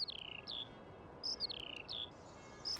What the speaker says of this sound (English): We've got some birds singing.